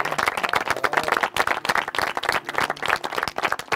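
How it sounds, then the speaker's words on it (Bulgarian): Audience applause at a season-final show, brisk uneven clapping from a small crowd, close and fairly loud, pulsing in bursts across the few seconds. "Аплодисменти за Влади! Браво!"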